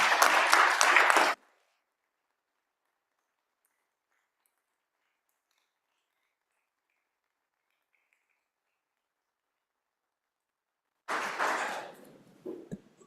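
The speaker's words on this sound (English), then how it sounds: "give him a round of applause" Applause in a state House legislative chamber during a floor session: a short burst of clapping from many hands, then silence, then a second round of clapping that fades out.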